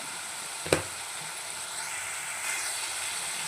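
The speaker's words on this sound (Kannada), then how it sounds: "ಟೊಮೆಟೊ ಕೂಡ ಚೆನ್ನಾಗಿ ಫ್ರೈ ಆಗಬೇಕೀಗ ಆಗ್ತಾಯಿದೆ" Tomatoes with chilli powder frying in a pan for a cabbage stir-fry, giving a steady close sizzle with one sharp clink of a utensil early on and a slight swell of hissing later.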